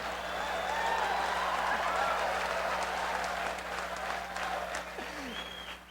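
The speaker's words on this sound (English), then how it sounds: "the married men are clapping on that one" Audience applause, mostly from the men, fills the room, a dense steady wash of clapping from many hands that gradually thins toward the end.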